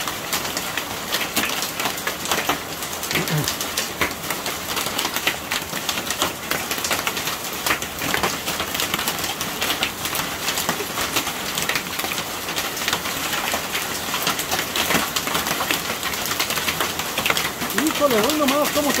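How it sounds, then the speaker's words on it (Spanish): Large hail falling in a dense, continuous clatter of hard impacts across nineteen seconds, steady and fairly close, with a voice speaking over it. "Está cayendo granizo muy grande."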